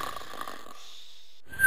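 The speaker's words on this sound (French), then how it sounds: "Regarde-la, elle ronfle." An old aunt snores in a French cartoon, giving a single loud, rasping snore that fades into quiet before a short bright tone at the end.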